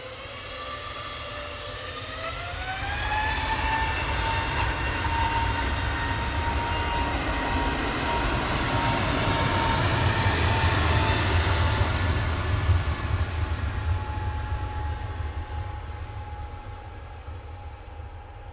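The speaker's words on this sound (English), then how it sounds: "EasyJet 2273 to Malta departing there. That's G Guzho, A320 Neo." An easyJet Airbus A320neo departs Manchester Airport, its engine roar swelling into a loud, sustained rumble with a rising whine, then slowly fading as the jet climbs away.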